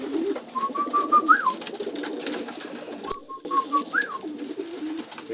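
Pigeons coo in a loft, soft rolling calls repeating twice with a pause between, under steady low background rumble and faint rustling.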